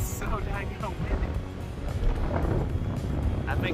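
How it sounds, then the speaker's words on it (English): Strong wind buffeting a microphone on a mountain peak in the Sierra Nevada, continuous rumbling gusts with rising and falling loudness, under a person talking. "I cannot believe how windy it is up here."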